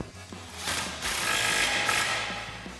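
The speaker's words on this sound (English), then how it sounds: "tighten these down using an 18mm socket on our impact and an 18mm wrench" An impact wrench with an 18mm socket tightens Jeep Wrangler JK suspension lift bolts in one close, rattling buzz lasting about two seconds after a few faint clicks.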